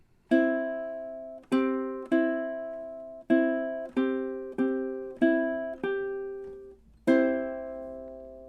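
Ukulele plays measures 14 and 15 of the Jamaican folk song Day-O, eight plucked notes and chords in steady time, each ringing briefly before the next, close and clear with no talking.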